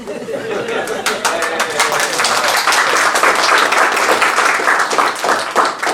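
A crowd claps in steady applause that swells and continues at a school district board meeting, mixed with lively chatter and voices throughout, fairly loud and close.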